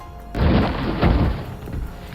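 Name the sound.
loud explosion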